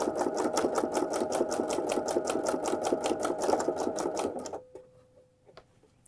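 A sewing machine stitches a stretch zigzag stitch for fold-over elastic binding, its fast, even needle rhythm loud and close for about four seconds before cutting off, leaving a faint tone and a few small clicks.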